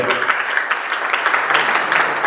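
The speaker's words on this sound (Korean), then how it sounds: "박수 한번 쳐주세요." An audience clapping at a business networking education talk, a dense burst of many hands applauding together, steady and fairly loud, with no voice over it.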